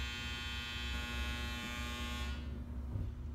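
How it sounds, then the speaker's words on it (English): A clothes dryer runs in a home with a steady low electric hum and whir, then its higher tones cut out near the end while the low drone continues. "That was my dryer."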